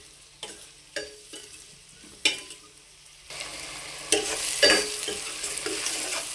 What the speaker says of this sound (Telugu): ఉల్లిపాయ ముక్కలు బాగా దోరగా వేగాలండి